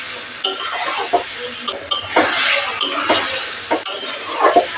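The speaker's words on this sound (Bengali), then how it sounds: "নেড়ে দিচ্ছি।" Fried potatoes stirred in a pan of oil and tomato sauce for aloo dum, repeated close scraping and clinking of a spatula over a continuous sizzle, with no talk.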